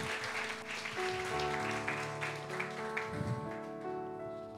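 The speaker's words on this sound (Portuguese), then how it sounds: "Então vamos aplaudir, aplaude Jesus." A church congregation claps together over sustained organ or keyboard chords, with the applause blended under the music at moderate volume.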